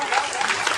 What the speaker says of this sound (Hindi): इसलिए माँ के लिए भारत को लिए तालियां बजाइएगा।